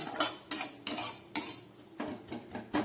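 A metal utensil scrapes around a pan of frying grated coconut over low heat in quick repeated strokes, about eight in all, close and fairly quiet.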